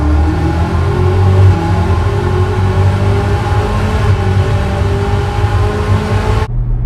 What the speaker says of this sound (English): I put my seat down to see if I can get a really sick sound clip of me accelerating here.